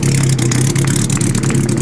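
A Ferrari 250 GTO's engine revs loudly and close by, a steady throaty roar with a low, even drone that never drops away across the short stretch.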